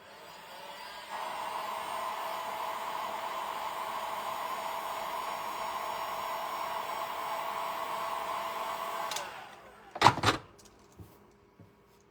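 A hair dryer runs steadily over a DIY kit piece for about eight seconds, giving a loud, even whirring hum. It then switches off, followed by a few sharp knocks and clatters as it is set down.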